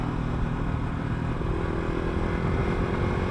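A Yamaha R15 motorcycle being ridden, its engine droning steadily with a buzzing tone mixed with road and wind rumble, close and constant, with no voices.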